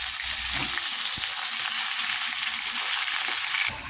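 Pumpkin and Malabar spinach sizzling in hot tempering oil with bay leaf in a pan, a steady loud crackling hiss with light stirring scrapes, cutting off sharply near the end.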